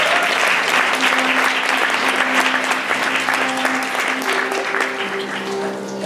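A festival audience claps loudly and continuously for a performing music team, dense applause filling the whole stretch with a faint sustained tone beneath.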